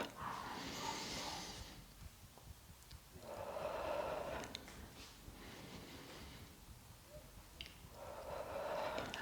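Slow, deliberate breaths during a standing Pilates balance exercise, with soft broadband inhales and exhales alternating in a steady rhythm of several cycles, close to the microphone and with no talking.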